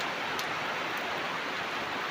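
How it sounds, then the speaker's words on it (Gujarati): Rain falls steadily outdoors, a soft, even hiss of drops without voices. "વરસાદ ચાલુ થઈ ગયો।"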